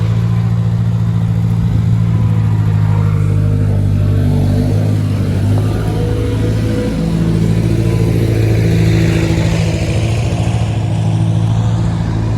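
A small tractor engine chugs steadily and loudly throughout, a low continuous mechanical hum with no pauses or talking.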